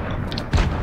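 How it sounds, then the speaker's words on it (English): A grenade goes off in a video game with a single short, deep boom that is moderately loud. Faint game noises come just before it. "Grenade explode!"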